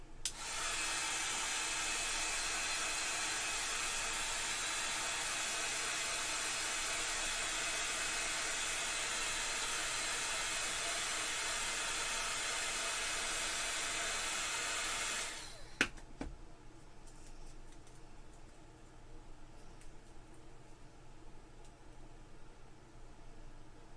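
A handheld hair dryer blows with a loud, steady whooshing hum for about fifteen seconds, then clicks off, leaving a quiet room.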